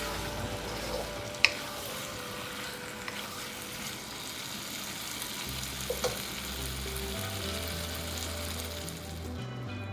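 Aloo gobi of potatoes and cauliflower frying in a pan, a steady soft sizzle running throughout with occasional light clicks and stirring scrapes, no talk.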